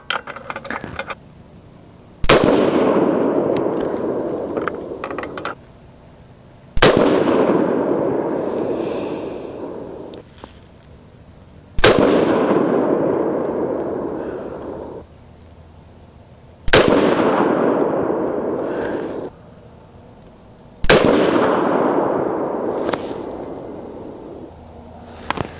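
Five loud, sharp rifle reports from an AR10 firing .308 Win handloads, spaced about four to five seconds apart, each ringing out into a long decaying echo across the range, with no talking.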